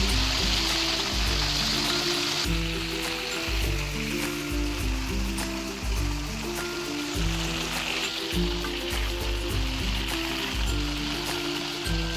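Cauliflower frying in hot oil gives a continuous crackling sizzle throughout, steady and close, with a low musical background underneath.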